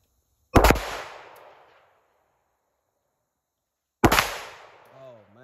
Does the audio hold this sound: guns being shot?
yes